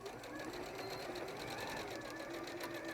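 A Juki sewing machine reverse stitches across the top of a pocket seam, its needle running in a steady, fast whirring patter, close and continuous for the whole stretch.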